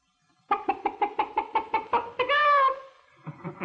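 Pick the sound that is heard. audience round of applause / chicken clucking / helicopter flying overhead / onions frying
chicken clucking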